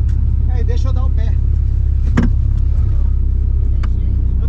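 A turbocharged VW Saveiro pickup runs loud and close with a steady low engine drone at full throttle, a brief sharp transient midway, and a voice talking over it early on.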